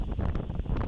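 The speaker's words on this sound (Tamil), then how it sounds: "சூறாவளி காற்றானது தொடங்கியது." Strong, gusty cyclone wind ahead of rain buffets the microphone with loud, continuous roaring rumbles, dust blowing on a road with passing traffic.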